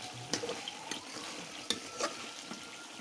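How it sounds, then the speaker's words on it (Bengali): Eggplant fries in a pan on a clay stove, a faint steady sizzle punctuated by a few sharp stirring clinks and scrapes, heard close with no talk. "এতে বেগুন ভাজা হচ্ছে।"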